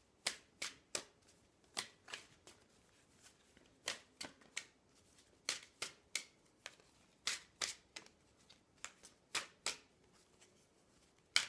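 Oracle cards being shuffled by hand before a draw, a quiet, close series of crisp riffling snaps coming in irregular bursts, alone with no talk.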